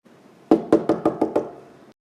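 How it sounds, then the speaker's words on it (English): Knocking on a door in a Mario video game: six sharp, evenly spaced knocks in quick succession, close and clear, alone with no talk. "Can you guys just stop arguing and just knock on the door already?"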